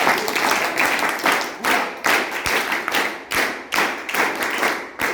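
Loud audience applause at a Hindi school event honoring a district coordinator and principal of a government senior secondary school, a crowd clapping in dense waves that swell and dip repeatedly.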